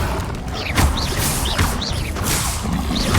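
Rapid Confringo blasts from the Hogwarts Legacy video game hit in a repeated rhythm, each a whooshing crash with a bright swish and impact, over a continuous loud battle backdrop.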